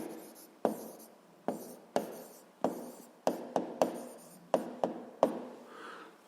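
A pen or pencil writes notes by hand on paper, a series of about ten short scratchy strokes in an uneven rhythm, close and quiet.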